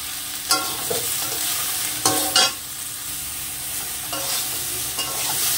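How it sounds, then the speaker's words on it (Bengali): Water lily stems fry with green chillies, salt and turmeric in a pan as a continuous sizzle, with a few clear spatula scrapes and stirring knocks scattered through; no one speaks. "শাপলাটাকে একটু কষে নেব।"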